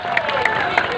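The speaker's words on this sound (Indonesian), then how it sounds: "Tepuk tangan untuk Merakai" Crowd at an evening community gathering in Merakai, Sintang, applauding in a brief, dense burst of overlapping claps with a few sharper peaks.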